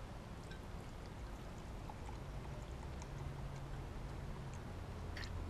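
About three ounces of Tanqueray gin poured into a glass for a ginger gin and tonic, a soft continuous liquid trickle with faint clinks, quiet and steady throughout with no talk.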